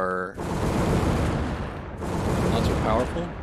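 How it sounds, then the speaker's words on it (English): Rapid, loud explosions spawned by an ability in an Unreal Engine 5 game, with a dense burst of booming blasts that pauses briefly and then resumes with a second run of repeated detonations. "you notice that the explosions on the client side are"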